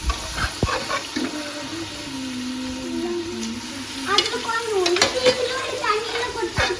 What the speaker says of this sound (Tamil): இப்போ வந்து நம்ம மட்டன் மட்டும் சேர்த்துக்கலாம்